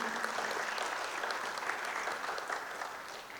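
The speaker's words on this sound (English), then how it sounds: "Can we give them a round of applause, please?" An audience applauds founders and governors at a school's 25th anniversary alumni meet, a dense, even wash of many hands clapping, sustained and fairly distant, fading slightly at the end.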